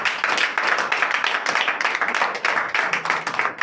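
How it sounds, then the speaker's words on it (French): A congregation claps during a Sunday church service in Comè, Benin. The clapping is dense and energetic, with rapid, slightly rhythmic hand claps sustained throughout and no clear talking over it. "Donnez l'acclamation"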